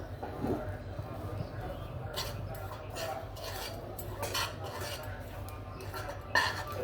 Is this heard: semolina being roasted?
yes